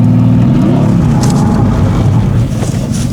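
A Mercedes-AMG GT S sports car accelerates on city streets in Batumi, its engine giving a loud, steady low roar that holds throughout and eases slightly near the end.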